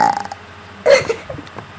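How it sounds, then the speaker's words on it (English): A single loud, wet burp bursts out in a quiet room, with a few softer gulping and mouth noises around it. "nice burp."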